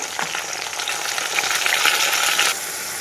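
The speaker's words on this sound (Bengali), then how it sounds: "আলুগুলো একটু হালকা হালকা ভাজা হয়ে গেছে দিয়ে দিলাম টমেটো কুচি পেঁয়াজ আদা রসুনের পেস্ট" Potatoes sizzle steadily in hot oil in a pan, with chopped tomato, onion and ginger-garlic paste just added. The sizzling hiss is close and continuous, with faint stirring clicks and no talking.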